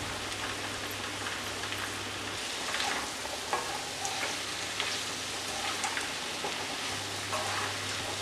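Potato and snake gourd sautéing in a spiced masala make a steady crackling sizzle, with scattered light stirring taps against the pan throughout.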